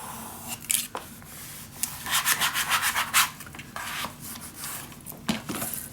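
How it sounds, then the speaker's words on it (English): Adhesive tape crackles and rubs as it is pressed down onto a laced junk journal, with a burst of dry scratchy rustles in the middle and softer sporadic rubbing around it, close and alone without speech. "you hear the tape now, but that will go when it's perfectly set"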